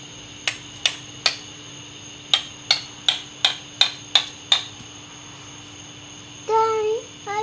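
Slide hammer striking during a rebuild of a turbocharged 4.6 engine: eleven sharp metallic impacts, two quick groups of three and then eight at a steady pace, followed by a brief squeaky high-pitched whine.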